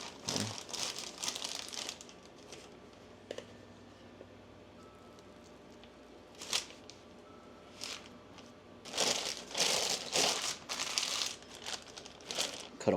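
A plastic bag is crinkled and handled while being prepared for stuffing smoked shotgun shells with manicotti, irregular close crackling rustles in short bursts that grow busier toward the end.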